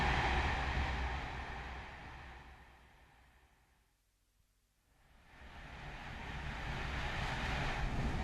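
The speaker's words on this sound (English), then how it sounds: "The train's going fast." A fast-moving train rushes past in a broad roar that fades to a hush midway, then swells back to full loudness, steady and continuous with no voices.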